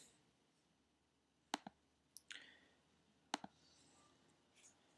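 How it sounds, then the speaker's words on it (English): Computer mouse right-clicks on a desk during an email editing task: a few sharp, close clicks spaced irregularly in near silence, some in quick pairs. "you right mouse click"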